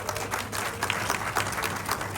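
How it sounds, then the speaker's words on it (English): An audience applauds at a speaking event about an African artificial intelligence centre. Dense, steady clapping fills the whole moment at moderate volume. "And if you will help me, you would do that round of applause again for Kabir."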